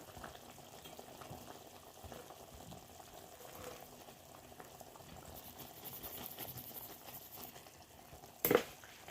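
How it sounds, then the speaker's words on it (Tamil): An anchovy fish curry simmers at a rolling boil in a pot, a soft continuous bubbling and gentle sizzle heard alone at low volume, ending with a sharp metallic clink. "பார்த்திங்கன்னா நல்லா மீன் குழம்பு நல்லா கொதி வந்துடுச்சு"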